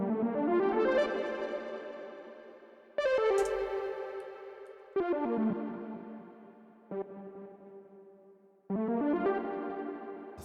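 Analog-style synth lead in the DUNE 3 synthesizer, bright harmonic notes struck in five separate bursts, each cut off and followed by a lingering reverb tail that rings and decays.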